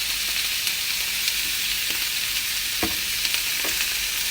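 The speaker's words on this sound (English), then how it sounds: "We're going to cook the tomatoes a little bit. Just mix it." Tomatoes with spices and a Maggi stock cube cooking in a pan, sizzling steadily up close while a utensil stirs them, with a few sharp scraping clicks scattered through and no talking.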